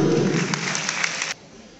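A crowd at a student freshers' meet in Udalguri claps in a dense wash of applause that stops abruptly after about a second, with voices mixed in.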